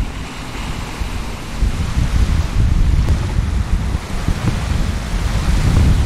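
Storm wind roars over rough sea with big waves around three metres high during a yacht voyage, a loud continuous rush of wind and surging water that swells stronger after the first second or so.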